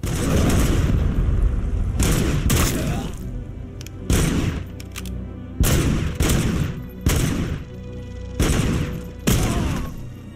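Repeated bursts of video-game gunfire, loud and close, coming in several distinct volleys with short gaps between them and boomy impacts mixed in.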